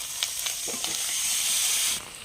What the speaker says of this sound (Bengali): হালকা জল দিলে মশলাটা ভালো ভাজা হয়।